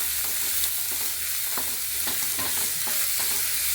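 A large onion sautés in a small amount of oil, giving a steady close sizzle with scattered scraping stirs and clicks across the pan.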